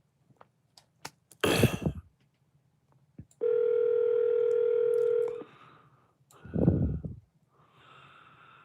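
A phone call placed through an Alexa device ringing out, with one long steady electronic tone between a snort and a throat-clearing cough, heard close in a quiet room.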